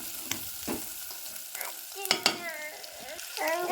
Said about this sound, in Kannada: ಉಳ್ಳಾಗಡ್ಡಿ ಚಂದ ಕೆಂಪಗಾಗುವಂಗೆ ಫ್ರೈ ಮಾಡ್ಕೊಬೇಕು